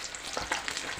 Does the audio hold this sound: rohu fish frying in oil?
yes